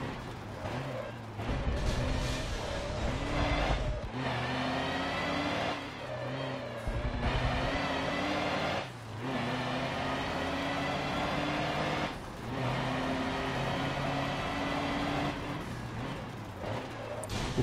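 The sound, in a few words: truck engine driving in video game Forza Motorsport 7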